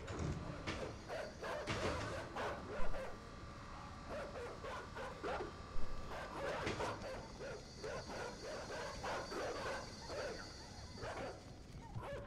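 Dogs bark in the puzzle-platformer game Inside: repeated yips, bow-wows and whimpers in uneven bursts, fairly close, over a steady rumbling game ambience.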